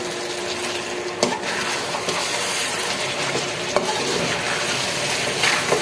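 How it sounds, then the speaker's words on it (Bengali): Potatoes go into chicken curry frying in a pot, giving a steady close sizzle throughout with occasional light knocks and scrapes of a spoon stirring. "এবার দিয়ে দিচ্ছি আলু"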